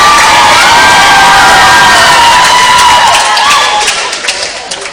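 Basketball crowd at a boys varsity high school game cheering and shouting loudly and continuously, with children's high-pitched yells in the mix, fading slightly toward the end.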